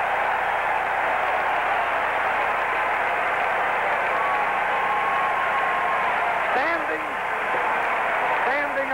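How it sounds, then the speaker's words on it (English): Large baseball stadium crowd at a 1968 World Series game in St. Louis roaring in a sustained standing ovation for a pitcher, a dense, steady wall of cheering and applause throughout, with faint whistles near the end. "Standing ovation for Bob Gibson"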